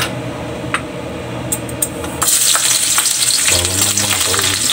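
Garlic sautéing in hot oil for squid adobo, a steady sizzle with a few spatula scrapes, then a louder, brighter burst of frying as more goes into the pan, close and with no talking.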